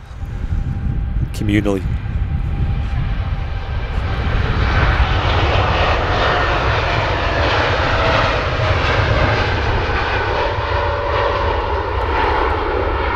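An airliner takes off at Manchester Airport, its jet engines roaring loud and steady throughout, with brief voices talking over the start of the noise.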